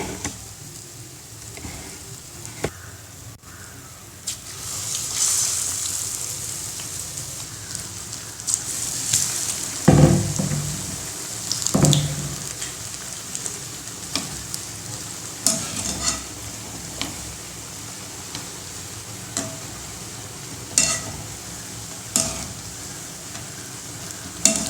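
Raw banana slices dipped in bajji batter sizzle and crackle in hot oil for a South Indian fritter, a steady close frying hiss with occasional stirring clinks and louder pops.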